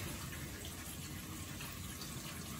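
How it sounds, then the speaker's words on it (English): A tap runs steadily while the water is left to heat up, a faint, even hiss of flowing water that continues without change, with no voices. "I'm going to let this water heat up."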